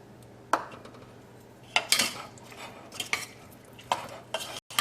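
Fish pieces being mixed by hand or spoon with turmeric and chili powder in a bowl for fish pickle, giving soft wet squelching and a few sharp clinks and scrapes against the bowl at irregular intervals, close up with no talking.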